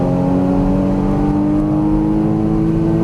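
A Porsche Cayman GTS engine pulls hard on a Las Vegas race track, a loud, steady, close engine drone with rising harmonics throughout, no talk.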